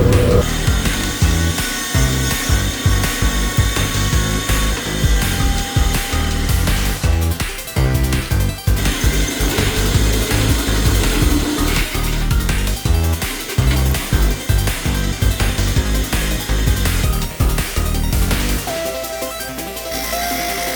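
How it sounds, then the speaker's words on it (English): A loud, continuous drill grinds through material boring a large bearing hole for a mini bike build, steady and close, with brief pauses before it winds down. "drill the big hole that'll allow the bearings to sit through"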